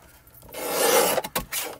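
Paper cardstock panel being cut to size for a handmade card, a short rasping slice that swells and then ends in a few quick scraping strokes, close up, with no talking.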